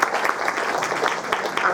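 An audience at a Hindu Mahila Sabha bravery award ceremony claps together, a short burst of brisk, uneven applause from a modest crowd.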